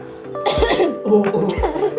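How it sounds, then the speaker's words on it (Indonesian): A person coughs a couple of times nearby, with short harsh bursts and a brief throat-clearing sound between them. "Iklan batuk dulu."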